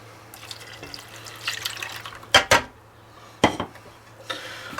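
Milk being stirred into a banana pudding mixture of beaten eggs in a pot, with soft liquid swishing, a few sharp clinks of a utensil against the pot, and a low steady hum behind.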